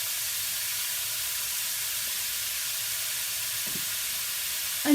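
Meat, still pink, fries in a pan as a base for chili, giving a steady, even sizzle and hiss that holds unbroken, close, with no talking.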